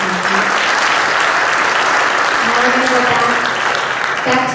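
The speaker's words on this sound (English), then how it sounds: "Give a round of applause for that." Debate audience applauds steadily and loudly throughout, a dense wash of clapping with a faint voice and crowd murmur underneath near the end.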